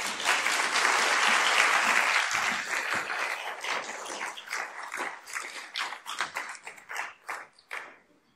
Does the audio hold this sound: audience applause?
yes